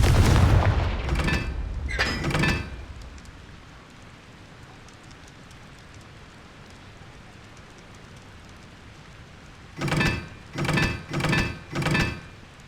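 A Confringo fire spell blasts in Hogwarts Legacy, heard as a burst of loud booming impacts at the start and then a rapid cluster of four heavy blasts near the end, with a low rumbling lull between them.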